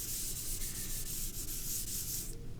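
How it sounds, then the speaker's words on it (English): Graphite rubbed firmly in circles onto newsprint, a steady dry scraping that sweeps on continuously, close and fairly loud with no talking. "Going to burnish it again. Nice circular motion."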